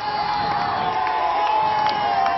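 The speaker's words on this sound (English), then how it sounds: "the cheer you hear is from the Beaconsfield crowd" The Beaconsfield crowd cheers at a 1980 SWGFL Grand Final football match against Berwick after a long kick, a broad distant roar of voices with scattered whoops, steady throughout the short stretch.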